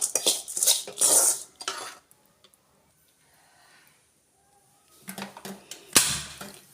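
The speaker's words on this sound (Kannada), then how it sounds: "ಗ್ಯಾಸ್ ಹಚ್ಕೊಂಡು ಮತ್ತೊಂದು ಪಾತ್ರೆ ಇಟ್ಕೊಂಡಿದ್ದೀನಿ" A cooking pot being set down and handled on a gas stove in a home kitchen while making laddus, giving several close, loud metallic clanks and scrapes in two bursts separated by a near-silent pause.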